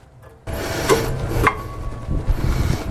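Rear brake pads on a Toyota being worked into place against the rotor, giving a steady close scraping and rubbing with a couple of sharp metallic knocks, no talking.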